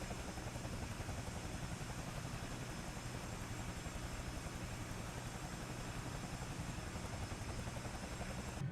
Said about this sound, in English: Having good spinning rotor effects make or break a helicopter model in my opinion